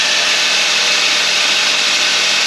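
A power tool running on a 12V 100Ah LiFePO4 lithium battery, whirring at a high, steady pitch, loud and close, running continuously without a break.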